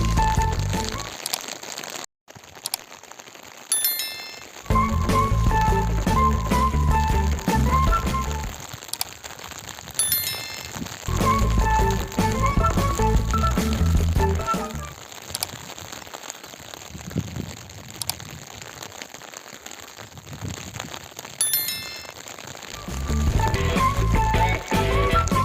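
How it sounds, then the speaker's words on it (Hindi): Rain pours steadily over a village on an overcast winter day, a dense patter and hiss that briefly drops out a few times, with no talking. "गांव के अंदर बारिश ही बारिश हो रही है।"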